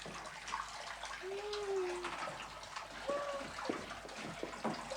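Tap running into a bathtub, a steady rushing broadband stream of water filling the tub, moderately near, continuous throughout with faint tonal squeaks.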